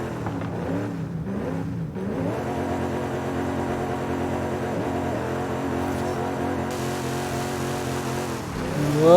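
Car engine in Forza Horizon 5 revving steadily and loudly throughout, with a rough shaking rumble, dipping briefly early on and rising sharply at the very end.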